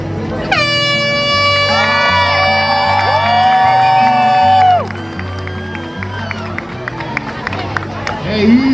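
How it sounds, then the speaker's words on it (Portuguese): A crowd cheers at the start of the Troféu Brasil de Triatlon in Santos as loud, sustained air horn blasts ring out over the crowd noise, followed by scattered cheering and shouts. "a torcida vem junto, a galera de Santos reunindo em peso para prestigiar, para vibrar com os nossos triatletas"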